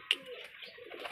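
A desi high-flying pigeon, a female, gives a soft, faint coo, a few low murmuring notes after a brief sharp click, with no voices.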